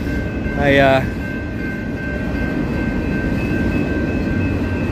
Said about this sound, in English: now we just gotta wait for this train